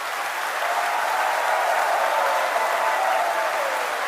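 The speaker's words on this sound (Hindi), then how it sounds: "वो लोग ताली बजाकर, हाथ उठाकर समर्थन करें" A crowd applauds steadily in support of Nitin Gadkari, a dense, even wash of clapping that holds level for about four seconds with no voices standing out.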